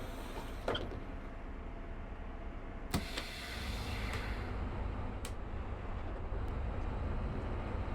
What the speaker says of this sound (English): can you hear that engine audio now?